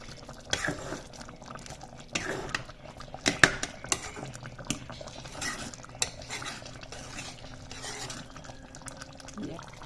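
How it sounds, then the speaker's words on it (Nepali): Fish curry being stirred in a pot, with a spoon scraping and clinking against the metal in irregular knocks and a faint liquid slosh underneath, close by, no talk. "अब यसलाई राम्रोसँग चलाइदिउँ।"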